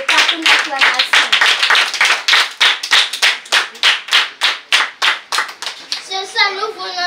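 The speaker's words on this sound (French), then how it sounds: "Manifeste-le par une acclamation." A church congregation clapping in acclamation during a worship service, with fast, steady, loud claps close by that run throughout and are joined by voices near the end.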